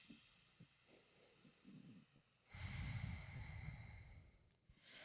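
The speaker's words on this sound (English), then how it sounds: "Then as you exhale, block the left nostril and breathe out through the right nostril." A single slow, audible exhale through one nostril rushes out for a couple of seconds, close and soft, between quieter breaths, with no speech.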